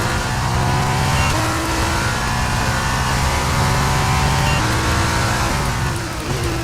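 A Formula 2 race car engine in the racing game F1 23 drones steadily and loudly throughout a feature race lap, a continuous high-revving whine with no talk.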